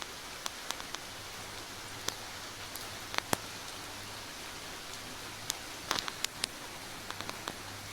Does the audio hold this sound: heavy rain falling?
yes